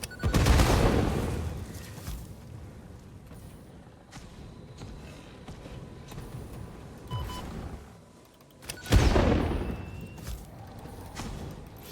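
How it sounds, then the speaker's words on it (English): Explosive blowing up in the factory-building game Satisfactory: two loud, sharp blasts with broad booming bursts, one at the start and another near the end, separated by a stretch of lower rumbling background noise. "I think it blew up the explosive as I threw it"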